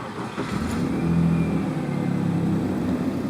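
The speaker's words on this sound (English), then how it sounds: "Now I'm going to go start the car." A car engine starts and settles into a steady, close idle with a low rumble throughout, in a driveway during mass airflow sensor cleaning with an OBD2 scanner connected.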